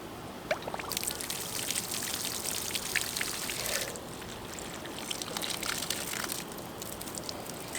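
Water flushing out of the open end of 1/2 inch poly drip irrigation tubing in a vegetable garden, a steady close pouring and trickling stream that holds from start to finish.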